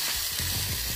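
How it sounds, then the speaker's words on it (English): Steady, loud sizzling of seasoned chicken legs searing on a hot Ninja Foodi grill, a bright continuous crackle with no voices. "the sizzle."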